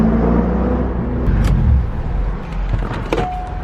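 A C5 Corvette's V8 with an X-pipe exhaust rumbles loud and deep, a steady heavy low drone with a brief faint whine near the end.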